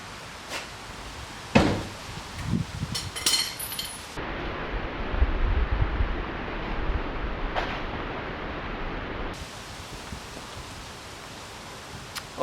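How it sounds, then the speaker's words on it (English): Gusty wind buffeting a camera mic outdoors beside a wrecked Ford Focus RS project car, a broad steady low rumble and roar with louder gusts, preceded by some brief handling clicks and knocks. "I'm sure the camera is picking up all the wind noise"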